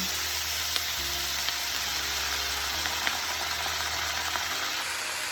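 Vegetables and vermicelli stir-frying in a pan for a Chinese New Year dish, a steady close sizzle and crackle running throughout, with faint scraping stirs and no talk.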